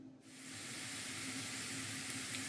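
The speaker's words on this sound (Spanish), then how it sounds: "aquí le estoy mostrando cómo sofrío el sofrito para los camarones" Sofrito for shrimp sizzling in a pan on the stove: a steady, close, bright hiss and crackle that swells in quickly and holds evenly throughout.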